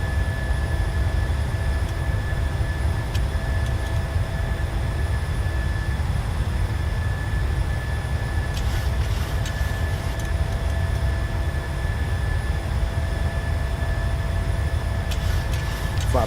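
PMDG 737-700 airliner engines at climb power in Microsoft Flight Simulator produce a steady, loud broadband roar with a constant high whine, unbroken and with no voices.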